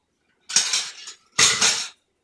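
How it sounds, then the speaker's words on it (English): Dry ingredients are stirred in a large bowl, giving two close bursts of utensil scraping and clinking against the bowl, each about half a second, separated by a brief pause, with no talking. "Then we're going to mix this in the large bowl."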